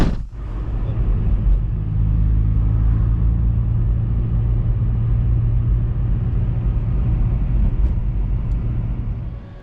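A car is driving home, heard from inside as a steady, low engine and road rumble that holds evenly throughout, with no talking.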